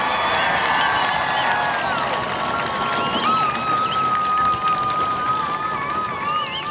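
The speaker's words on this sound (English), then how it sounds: "I want you guys to scream and clap as loud as you can" Large crowd at a Relay for Life gathering screaming and clapping, a continuous roar of cheers and applause with shrill whistles and yells, steady and loud throughout.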